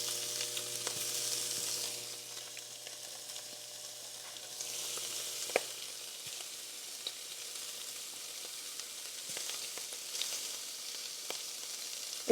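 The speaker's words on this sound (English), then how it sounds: "I'm going to break this up and put it on the bottom of the pan in sort of pieces" Frozen lamb sizzling in a hot pan while being broken into pieces, a moderate steady sizzle with occasional scraping and tapping from a utensil and a faint hum early on.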